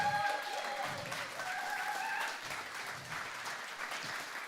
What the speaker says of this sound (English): a big round of applause to Colin as well for making this happen